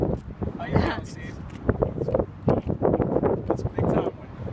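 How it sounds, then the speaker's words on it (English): Gusty wind blows outdoors at a levee, buffeting the microphone in rough bursts throughout, with people talking over it. "It's a little windy today"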